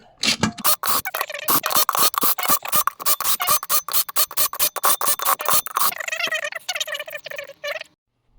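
A power driver spins nuts onto split rim bolts at high speed: a rapid series of loud, close ratcheting bursts for several seconds, then a shorter, smoother whirring run before stopping.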